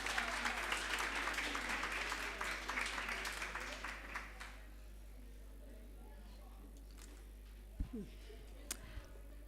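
A seated audience at a women's forum pre-launch claps in a dense burst of applause that fades out after about four seconds, leaving a quiet room with a few faint knocks.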